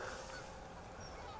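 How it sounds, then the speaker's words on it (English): Geese honk faintly from birds gathered by a river during an autumn walk in Devon, a few distant calls over outdoor background noise, with no voices. "we just stopped to look at some birds"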